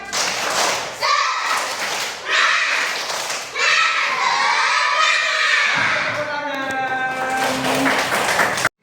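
Second-grade schoolchildren in a classroom perform a spirit clap chant, a rhythmic pattern of claps mixed with loud, chanted young voices in unison, ending abruptly.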